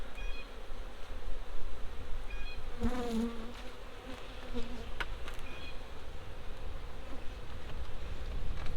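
Honey bees buzz steadily and closely during a hive inspection on a farm, a dense drone with individual bees passing near and away throughout, without talking.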